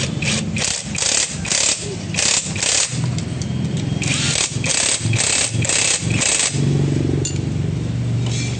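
A smoky, noisy motorcycle engine runs with no exhaust pipe fitted, just after its timing was set and the bike reassembled. It sounds raw and loud close up, revving in repeated sharp bursts over a rough, steady idle.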